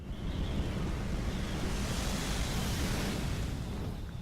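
A strong, unnatural gust of wind sweeping through a Tomb Raider scene, a steady broad roar of rushing air that swells and holds loud for several seconds without a break.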